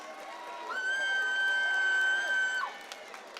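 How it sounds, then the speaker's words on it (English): Cheering for graduates at a graduation ceremony, led by one long, high, sustained whistle-like whoop lasting about two seconds over faint crowd noise. "Feel free to give them applause, graduates."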